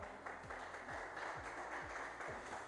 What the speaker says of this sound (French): s'il vous plaît, nous pouvons applaudir très chaudement